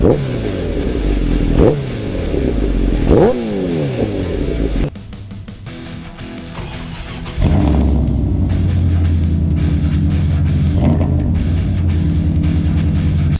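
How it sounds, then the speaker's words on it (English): An 1100 motorcycle engine revs up hard several times close by, rising and falling, then settles into a loud steady idle rumble. "Give you guys a couple revs here."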